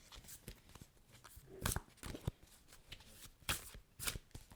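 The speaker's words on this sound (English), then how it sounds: "Okay, so I'm gonna shuffle." A tarot card deck is shuffled by hand in soft, rapid riffling bursts with short pauses between them, close and quiet, with no talking.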